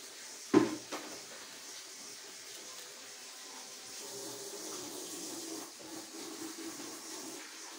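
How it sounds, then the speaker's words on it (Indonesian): Boiling water is poured onto flour dough for cilok, a steady, quiet trickling splash that runs for several seconds after a sharp knock at the start, with no talking over it. "pastikan adonan airnya itu harus benar-benar mendidih buat disiram ke adonan tepungnya"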